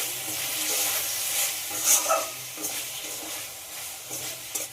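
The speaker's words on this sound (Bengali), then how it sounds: "সব কিছু খুব ভালোভাবে কষিয়ে নিতে হবে।" Chicken with cumin and coriander powder sautéing in a pan over low-medium gas, a steady close sizzle broken by scraping stirs of a spoon, with no voices.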